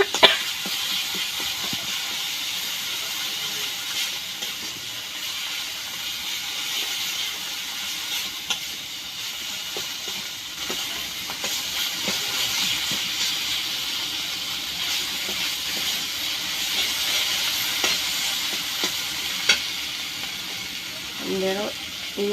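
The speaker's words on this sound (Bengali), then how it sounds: "মশলাগুলো কষানো হবে একসাথে" Spices with turmeric and salt are stirred together in a hot pan for village-style home cooking, giving a steady, close sizzling hiss that runs throughout, with voices talking over it.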